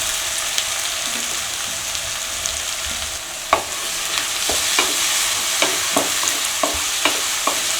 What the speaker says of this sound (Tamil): இப்போ பொடியாக நறுக்கி வச்ச வெங்காயம் போடணும்.